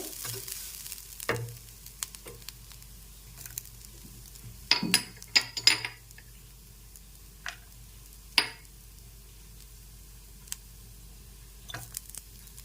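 Gujiya filling stirred and fried in a pan over a low gas flame, with occasional sharp scrapes and clinks of the spoon against the pan over a faint sizzle, the strokes irregular and spread out.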